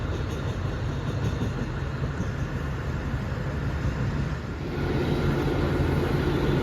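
Rapid train No. 133, Bangkok to Nong Khai, pulls into platform 1 at Bang Sue station. A steady low rumble and rolling hum carry throughout, growing slightly louder near the end as the train draws closer.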